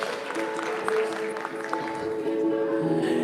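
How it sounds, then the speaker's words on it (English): Audience applause for a musical performance by a singer at a Women's History Month salute event, a brief burst of clapping with some tonal sound lingering underneath. "Yes, clap it up for Jess."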